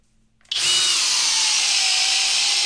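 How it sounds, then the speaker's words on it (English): A high-pitched FLEX cordless drill whirs up abruptly after a brief quiet moment and keeps spinning steadily and loudly, driving a timber lock screw. "let's do a timber lock with the flex drill."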